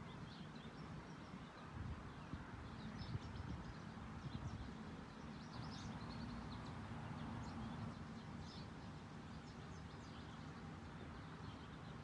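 Birds chirp and sing continuously in a park, with scattered calls over a constant low rumble of open-air ambience.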